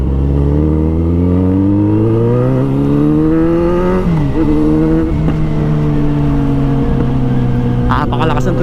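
A Kawasaki Z900 motorcycle engine revs loudly and close, pitch climbing steadily then dropping and surging again, a continuous heavy roar with a short rattle near the end and some voice underneath.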